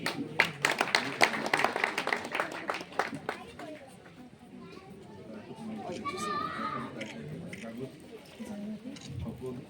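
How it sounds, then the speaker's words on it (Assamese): Guests at a wedding ring ceremony break into a burst of hand claps for the first few seconds, mixed with chatter, before the applause fades and voices carry on. "আমি হাত তালি এটা দি দিম"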